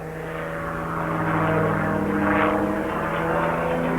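An aerobatic airplane performing a Cajun tornado maneuver at a 1995 Knoxville air show drones with a loud propeller engine roar that swells and shifts pitch as it passes, continuous throughout with no voices.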